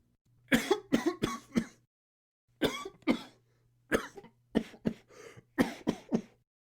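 A man coughs in repeated harsh fits, several rapid hacks per burst with short gaps between, close and alone against a quiet low hum, part of a dramatized Poe reading.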